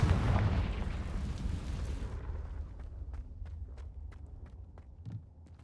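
A Confringo fire spell in the video game Hogwarts Legacy bursts with a loud, rumbling blast that fades over about two seconds into quieter game ambience with faint footstep-like ticks, and there is no talking.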